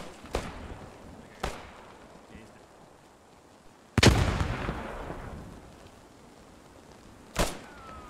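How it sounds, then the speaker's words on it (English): A single loud grenade blast in Post Scriptum stands out, trailing a rumbling decay, with fainter distant gunshots cracking before and after it. "Ooh, that's a grenade."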